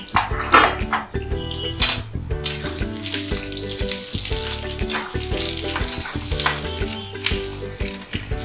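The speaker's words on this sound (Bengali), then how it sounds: "এবার বেগুনগুলো লাল লাল করে ভেজে" Eggplant slices frying in oil in a pan for a Bengali spinach mixed vegetable curry, a steady close sizzle with clinks of a utensil against the pan and a faint musical hum in the background.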